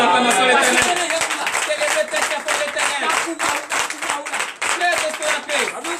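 Members of a church congregation clap rhythmically and cheer in acclaim, loud and close, with a steady beat of hand claps under a mix of voices.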